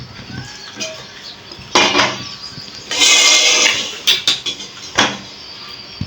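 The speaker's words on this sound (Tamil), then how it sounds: "இப்போ வந்து கிரேவி செய்கிறதுக்காக இப்போ அடுப்பத்தை வச்சு சட்டி வச்சுக்கலாம்" At a home stove, a metal cooking pan is set down for making gravy, giving several clanks and scraping knocks of cookware in separate bursts with quiet gaps between them, close by and with no talking.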